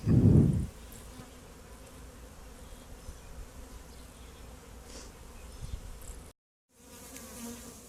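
Honeybees hum in a continuous, even drone around an open hive during requeening, starting with a brief louder burst close by before settling, with a short silent gap near the end.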